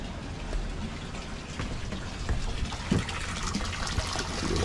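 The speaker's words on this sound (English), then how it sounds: "See the water flow now." Continuous gushing water running nearby through a hose on a Mabru marine air conditioner during descaling, a steady splashy flow with occasional gurgles and trickles, no talking.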